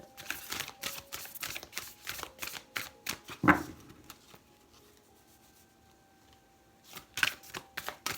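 Oracle cards from a Sacred Earth Oracle deck shuffled by hand, a rapid series of crisp riffling snaps and taps close up, followed by a quieter pause and a few more brief card flicks.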